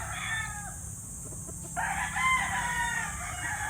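Young roosters (stags) around five to six months old, wet from rain, crow and cluck close by, with one short crow fading out and another rising after a brief pause.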